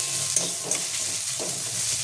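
Soft sizzling of something frying in a pan, with a few light scraping stirs, steady and close.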